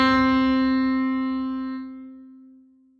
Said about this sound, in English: Now find the C that you think is nearest the middle of your piano or keyboard.